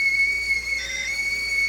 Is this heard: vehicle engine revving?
no